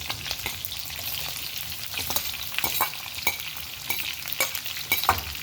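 Ground beef and onions frying in a pan over medium-low heat, a continuous sizzle with sharp scraping stirs and clicks scattered through it, close and fairly loud, no talk.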